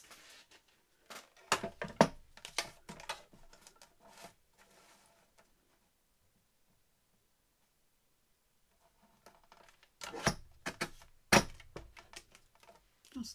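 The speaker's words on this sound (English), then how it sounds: "let's cut that there" Paper or card being cut for a scrapbook double-page spread gives bursts of crisp clicks and snips, a quiet gap in the middle, then another cluster of sharp cuts.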